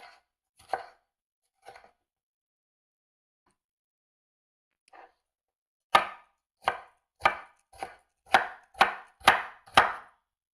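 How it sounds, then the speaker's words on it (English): Peppers being diced with a knife on a cutting board: a few sparse chops, a pause, then a quick run of about eight crisp, evenly spaced knocks, close and clear with no talking. "We're gonna cut the peppers in small dices."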